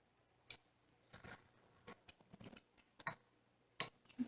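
Scissors snipping paper for a handmade happy mail craft, a series of short crisp cuts at irregular intervals, fairly close and quiet with no talking.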